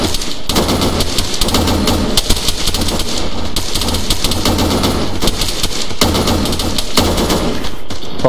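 Airsoft guns rattle in rapid, continuous bursts during an outdoor skirmish, with loud, close volleys running the whole way through and no voices breaking in.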